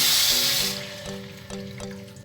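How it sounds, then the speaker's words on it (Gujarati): About 1.5 cups of water are poured into a pot of yellow pulao mix with cashews, a short splashing, filling gush that is loud at first and then tapers into softer trickles and a few dull knocks. "આપણે પાણી નાખીશું અંદર"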